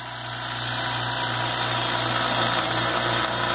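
A Harbor Freight Fortress 2 gallon ultra-quiet air compressor runs with a steady, moderate motor hum and mechanical drone, continuous and even throughout, heard from a short distance with no talking.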